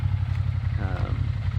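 A Wildcat 1000 engine idles steadily while warming up, a continuous loud low rumble with a faint rattle and a brief rise in tone partway through.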